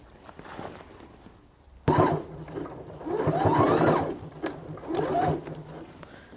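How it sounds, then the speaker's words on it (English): A sewing machine sews fabric gathers onto the top of an apron in a few short, close bursts that follow a quiet start. "I'm just sewing the gathers to the top of our apron."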